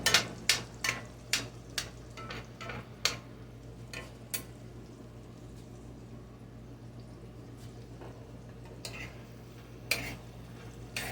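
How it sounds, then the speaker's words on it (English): A utensil scrapes stuck potato off the bottom of a skillet cooking onions for Scotch stewed potatoes, a quick run of sharp scraping strokes up close, then sparser scrapes over a low steady hum, with no talking. "I'm going to scrape the bottom and try to get some of that potato loosened up that may have stuck."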